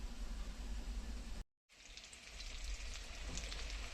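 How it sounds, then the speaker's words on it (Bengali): Mutton boiling in a pot gives a steady, dense bubbling hiss, briefly cut to silence before resuming just as strongly. "এবারে মাটন সিদ্ধ বসিয়ে দিয়েছি"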